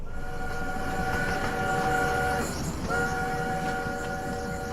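A train rolls along in an audio drama, a steady rumble with a sustained horn-like tone that fades briefly and returns, heard alone.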